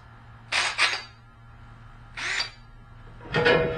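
A Shopsmith drill bores through a metal casting at high speed, heard as three short, close bursts of grinding drill noise separated by pauses, the last burst the longest and heaviest.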